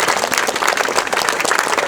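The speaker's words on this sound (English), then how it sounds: "Give yourselves a round of applause." A crowd at an outdoor street-renaming ceremony in New York City applauding, dense steady clapping from many hands, loud and continuous throughout.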